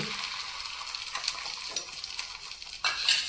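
An egg frying in a lightly oiled wok for a Kolkata-style egg roll gives a steady close sizzle that jumps louder near the end as more egg hits the hot pan.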